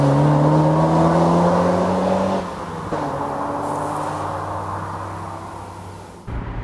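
A first-generation Mazda MX-5 drives along a road, its engine tone climbing through gears with cabin drone and road noise, loud and close throughout.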